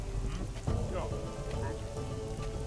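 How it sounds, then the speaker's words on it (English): Steady rain patters in the Northgard strategy game, a dense continuous hiss with faint game clicks and sounds over it, moderately quiet and unbroken throughout. "Now it's raining"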